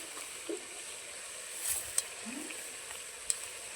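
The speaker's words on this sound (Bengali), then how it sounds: "বড়িটা আমি হালকা তেল দিয়ে ভেজে নিচ্ছি।" Lentil bori frying gently in a little oil with five-spice, a soft, steady sizzle with faint crackles and a couple of small clinks, quiet and close with no talk.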